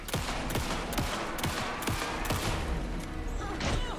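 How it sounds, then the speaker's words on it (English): Rapid gunfire in a video game, a string of sharp, loud shots in quick irregular bursts over a dense, noisy battle background, with no clear speech. "Anderson, pin him down with gunfire for me to get the light up."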